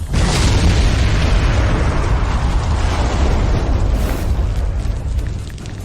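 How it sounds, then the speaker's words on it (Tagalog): A powerful explosion tears through a building, with a loud booming blast followed by a heavy, sustained rumble that slowly fades, and no voices. "Sobrang laganap ng pagsabog dito, hindi ako makalabas."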